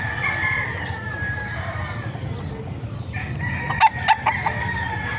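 Roosters and chickens at the Bocaue market in the Philippines, with several sharp crows and clucks rising late over a steady murmur of crowd and market noise.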